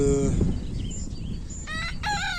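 A Sussex rooster crows loudly at close range beside a hen, with clucks and other farmyard bird calls over a steady outdoor background.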